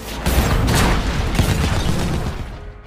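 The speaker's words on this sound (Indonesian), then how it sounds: "Mendengar ledakan tersebut, Vogel menjadi tidak fokus." An explosion in a film sounds as a dense booming roar with bursts of crackling debris, loud and sustained before tapering off toward the end.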